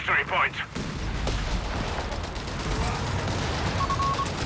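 Artillery shell fire in Company of Heroes 3 during a 2v2 match, with a sustained rumble of distant shelling and scattered booms, plus a brief tone from the game near the end.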